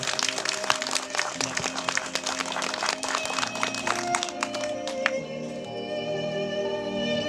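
Wedding guests applaud at a Ukrainian ceremony, a busy patter of many hands that thins out and stops after about five seconds, leaving soft sustained music playing alone.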